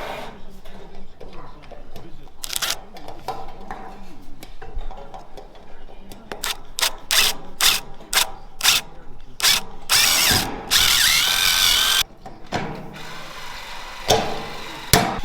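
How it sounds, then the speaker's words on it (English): An aluminium roof gutter corner is riveted with a rivet tool, giving repeated sharp mechanical snaps and clacks in irregular bursts with brief clattering and handling noise between them. The sounds are close and loud. "We're going to get a rivet into the back corner there, into that position right there."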